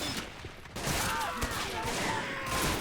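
Dense, continuous gunfire in a World War II shooter game, with rapid rifle and machine-gun shots blending into a loud, sustained roar with no clear pauses.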